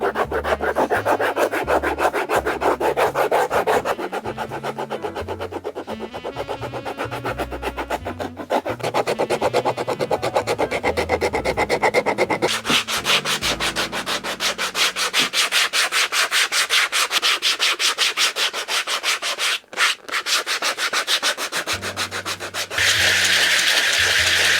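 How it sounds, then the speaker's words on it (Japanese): A rasp file roughens the surface of a worn leather shoe before gluing, a loud, close, continuous scraping with fast back-and-forth strokes that shifts tone a few times and pauses only briefly. "そしたらこの面接着剤つけるのでヤスリで荒らしていきます。"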